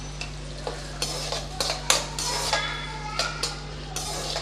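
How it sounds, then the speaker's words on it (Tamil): Chopped onion for egg rice is stirred in a hot pan, with a steady sizzle and frying hiss broken by repeated spatula scrapes against the pan, heard close over a constant low hum and with no talking. "கொஞ்சம் நல்லா வெங்காயத்தை வதக்கி விட்டுறலாம்."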